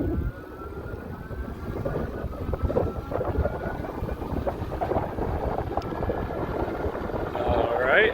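Mokwheel Asphalt ST cruiser ebike motor running at full throttle on a slight uphill, a steady whining drone with a faint rising tone under broadband wind rush, continuous for several seconds.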